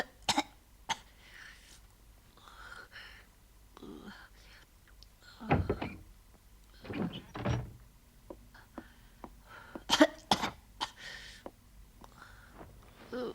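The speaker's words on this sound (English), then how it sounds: "Oh, dear, Moomin, that's a nasty cough" A cartoon character with a bad cold and sore throat coughs a few times and clears their throat, with soft breathy sounds and quiet pauses between the fits.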